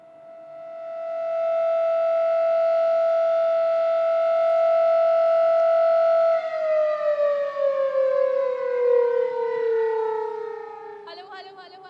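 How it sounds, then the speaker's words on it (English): Air raid civil defense siren sounding during a mock drill in Delhi, a loud sustained steady wail that holds for several seconds before sliding down in pitch and fading, heard alone. "Well, Gargi, you can hear the air raid sirens that are"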